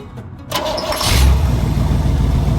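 A truck engine cranks briefly and then catches, settling into a loud, steady idle after a used truck bought sight unseen is started again.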